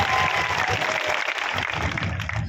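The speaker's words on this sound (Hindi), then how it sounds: "जोरदार ताली बजाओ" An audience at a political rally in India claps loudly and continuously, dense applause filling the whole stretch with a brief dip in the middle.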